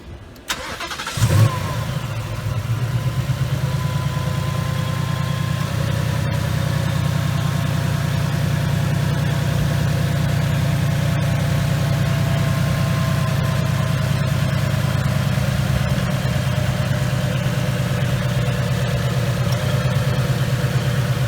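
A 2019 Ford Mustang GT with a Whipple Stage 2 supercharger fires up with a brief burst, then settles into a loud, steady, deep idle that rumbles on with constant low vibration and no voices.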